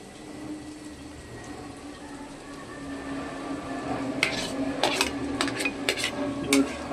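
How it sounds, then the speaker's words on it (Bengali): Vegetable fried rice being stirred in a pan, with a low steady sizzle and then a cluster of sharp metallic scrapes and clinks of the spatula against the pan toward the end. "এবার হালকা করে পুরো ভাতটা দিয়ে নাড়িয়ে চাড়িয়ে নেব।"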